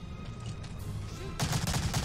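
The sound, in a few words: MP40 submachine gun firing in the video game Medal of Honor: Allied Assault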